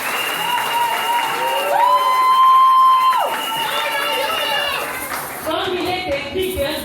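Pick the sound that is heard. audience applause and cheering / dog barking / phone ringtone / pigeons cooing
audience applause and cheering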